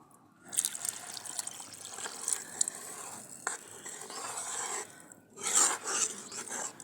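Water trickles and splashes into a pot of Punjabi kadhi in uneven bursts, close by, with a louder gush near the end and no talking.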